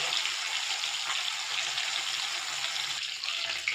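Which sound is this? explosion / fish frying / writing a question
fish frying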